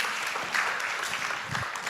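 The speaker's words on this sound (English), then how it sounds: "Round of applause." Audience applause at a conference session, a short burst of steady clapping from a seated crowd, moderately loud and continuous for the full moment.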